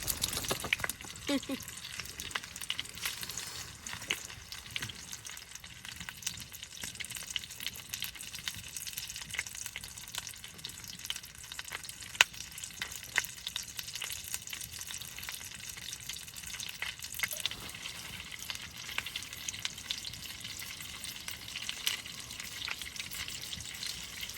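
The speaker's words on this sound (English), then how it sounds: "I like to hear that sound of the sizzle" Oxtail soup sizzles quietly in a pan at a winter campsite, a faint steady crackle and hiss running continuously with occasional clinks and soft movement.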